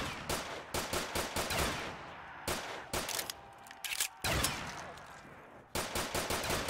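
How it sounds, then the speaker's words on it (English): Pistol gunfire in Black Ops 3 custom Zombies rings out as repeated sharp shots, arriving in rapid bursts and clusters with short pauses between, loud and close. "Yeah, I'll shoot with my pistol."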